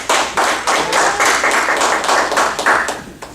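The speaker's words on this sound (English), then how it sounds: "Give a round of applause for Scott." A small group at a speaking club meeting gives a close, loud round of applause, with individual hand claps distinct in an uneven rhythm and no talking over it.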